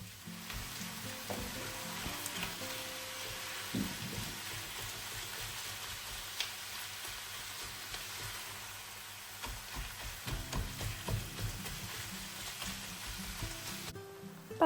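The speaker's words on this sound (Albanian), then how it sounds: "Pasi qepa është skuqur, do të hedhim 500 g mish të grirë viçi" Minced beef, 500 g added to onions already fried, sizzles in a pan with a continuous, fairly quiet crackle and a few scraping stirs.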